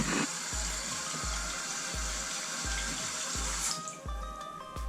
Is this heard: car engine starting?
no